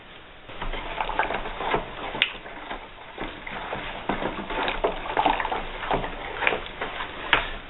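Homemade laundry soap with oxygen cleaner added is stirred in a container, a continuous close wet sloshing and scraping with soft splashes and occasional clinks.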